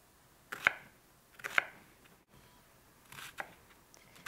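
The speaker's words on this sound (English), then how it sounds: "Slice one onion." Knife cuts through an onion on a cutting board, with four or five crisp, close chops spaced about a second apart over quiet room background, no voices.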